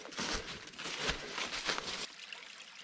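A forest creek in the Sipsey Wilderness of Alabama flows in a steady, close broadband wash, with water surging in a few stronger pulses before easing to a quieter trickle near the end.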